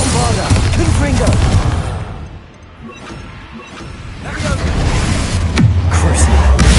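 Loud spell explosions, Bombarda and Confringo, crash and boom in Hogwarts Legacy combat, with dense bursts and whooshes that dip briefly before surging again, while a voice shouts spell names over them.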